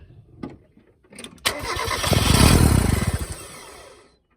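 A Mazda Miata with a bad fuel injector cranks and catches roughly, uneven misfiring pulses over a steady engine roar, loud and close, after a few brief knocks.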